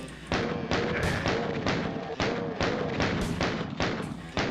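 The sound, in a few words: sound effects from a shooter video game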